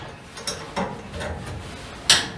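Two sheet metal panels on a car dashboard are tightened, with close, sharp mechanical ratchet clicks and a few scattered metallic ticks over a short span.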